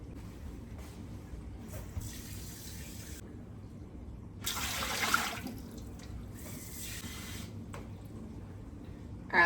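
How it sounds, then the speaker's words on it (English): Water pours into a home canning pot for beef stock in short, splashy bursts, fairly close, with quiet gaps between pours and no talking. "there's my 2 quarts of water in my canner"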